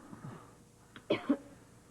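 A patient gives two short, faint coughs during a doctor's chest examination, quick muffled bursts close together in an otherwise quiet room.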